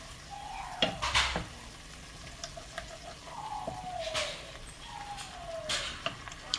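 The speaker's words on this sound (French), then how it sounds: "On va bien mélanger" A spoon stirs mustard sauce in a pan, thinned with a little water, with scattered metallic clinks and scrapes against the pan over a quiet background.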